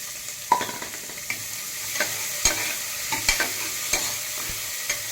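Onion, green chillies, garlic, mustard seeds and cumin fry in a pan for tomato rasam, a steady close hiss of oil with scattered sharp spatula taps against the pan.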